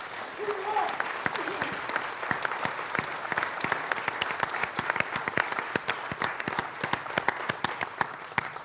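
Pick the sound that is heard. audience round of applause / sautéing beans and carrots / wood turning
audience round of applause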